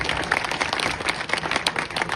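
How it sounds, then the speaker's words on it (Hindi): A crowd at a public event in Chhindwara, India, clapping for the chief minister: sustained, fairly loud applause with individual claps standing out, no talking over it. "तो जरा मुख्यमंत्री जी के लिए एक बार जोरदार ताली बजा दो।"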